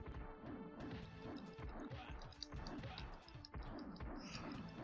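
A screen-clearing bomb blast in The Ninja Warriors: The New Generation, heard as a dense run of loud crashing impacts and smashing hits that fill the whole stretch with busy game sound.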